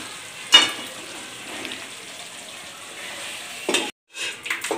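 Spicy mutton kosa with Kashmiri chilli being stirred and sautéed in a pan, a steady close sizzle with occasional scraping strokes and a brief break near the end.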